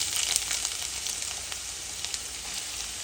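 Chopped small onions sizzling in hot coconut oil for a beef dish, a steady bright frying hiss with scattered pops, moderately loud and uninterrupted.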